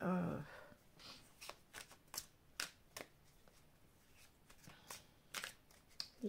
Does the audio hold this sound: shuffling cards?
yes